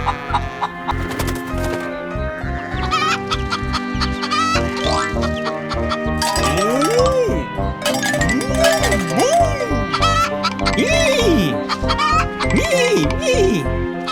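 A hen calling for its chick clucks repeatedly in rising and falling calls over steady background music, the clucking growing more frequent in the second half.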